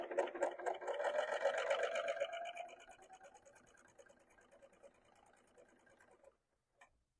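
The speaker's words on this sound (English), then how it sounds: "sew on that right edge now" A Bernina L890 overlocker stitches along a long fabric edge, a loud steady whirring drone for over two seconds that drops to a quieter, lighter running hum before stopping, followed by a brief faint click.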